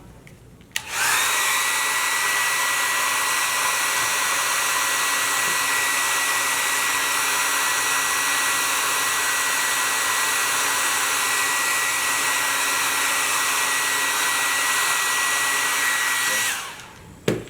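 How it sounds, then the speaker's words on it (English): A hair dryer switches on and blows onto velour with a steady, loud whirring hum for about sixteen seconds, then cuts off. "You can take your hair dryer,"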